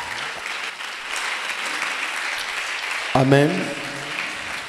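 Church congregation applauding in a steady, full wash of clapping, with a voice calling out briefly over it near the end.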